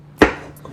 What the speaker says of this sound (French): Coupez en diagonale comme ça.